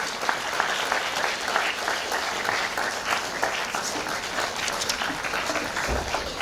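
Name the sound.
audience applause welcoming Reshma Jain to the dais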